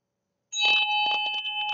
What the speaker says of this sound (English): turn on some meditation music that has Tibetan singing bowls, Tibetan bells